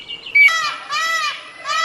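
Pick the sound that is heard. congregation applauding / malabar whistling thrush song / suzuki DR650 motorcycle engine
malabar whistling thrush song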